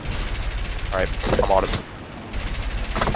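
Aircraft guns rattle in War Thunder, a dense steady stream of rapid automatic fire with a short pause midway, with someone talking briefly over the firing.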